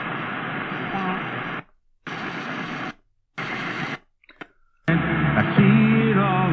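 AM radio broadcast on a Sangean MMR-99 emergency radio, crackling through static during daytime, with a voice fading in and out and dropping to silence between bursts of reception.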